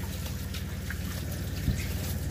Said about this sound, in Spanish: Caliente el agua.